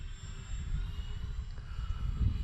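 A C-47 Skytrain Dynam RC model plane in flight, its electric motors giving a faint, steady low drone with some wind rumble, heard at a distance with no talk.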